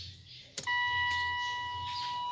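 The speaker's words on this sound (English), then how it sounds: "So now you can see the buzzer sound because the door is open." A steady electronic warning chime from a 2016 Mitsubishi Montero Sport with its door open starts abruptly and holds as a continuous tone, loud and close inside the cabin, over a low engine-idle rumble.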